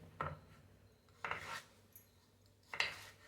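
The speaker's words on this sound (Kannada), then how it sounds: "ಹೀಗೆ ಕಟ್ ಮಾಡಿ ಚಿಕ್ಕದಾಗಿ ಕಟ್ ಮಾಡ್ಕೊಳ್ಳಿ." Three separate knife cuts through cucumber against a board, spaced about a second apart, quiet and close with near silence between.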